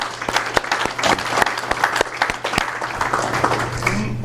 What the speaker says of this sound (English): So one more time, give them a round of applause.